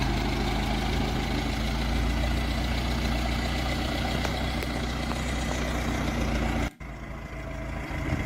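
An old vehicle at a Nebraska car auction runs with a loud, steady low engine drone that cuts off abruptly near the end, then resumes slightly quieter as it moves away.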